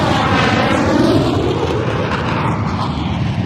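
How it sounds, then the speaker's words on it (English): Military jet aircraft of the Argentine Air Force roar overhead during a Falklands War attack, a loud, sustained rushing engine roar that sweeps past without letup and with no voices. "There was suddenly this roar, and I looked up and saw the bottom of 5 aeroplanes, or even 6."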